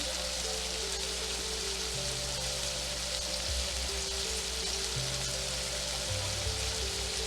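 Scallops sear in a pan of brown butter with parsley added, giving a steady, close, hissing sizzle that continues without break and with no talking.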